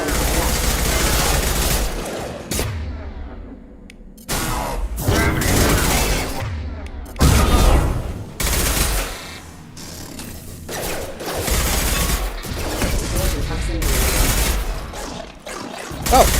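Heavy gunfire in a Mass Effect battle, dense loud bursts of rapid shots and mechanical clatter, close and continuous with brief lulls, mixed with occasional voices.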